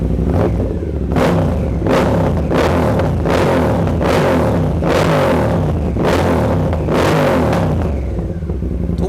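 A Triumph Speed Twin 1200 with a Lowell full-system exhaust revs repeatedly, deep rumbling bursts rising and falling in a steady rhythm, loud and close.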